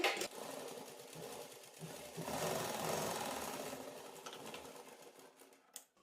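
A sewing machine runs steadily for about six seconds while stitching the bottom hem of a pencil-style pant, its needle motor giving a close, continuous mechanical whirr with slight rises in speed and no talk over it.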